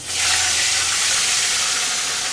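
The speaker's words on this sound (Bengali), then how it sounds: "মাছ হলুদ মরিচ মাখায় রাখছিলাম এখানে দিয়ে দেব মাছ" Fish marinated in turmeric and chili hits hot oil and sizzles with a loud, steady, hissing crackle that holds evenly throughout, with no voices over it.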